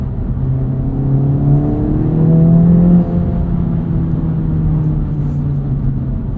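A 2024 Acura Integra Type S turbo four-cylinder revving under way in Sport Plus mode, its loud, steady engine drone climbing in pitch, briefly peaking, then settling into a sustained cruise hum with no talking.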